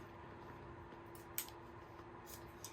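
A single quiet snip of scissors cuts through ribbon, followed later by a fainter second snip, over a low steady room hum inside a fifth-wheel trailer.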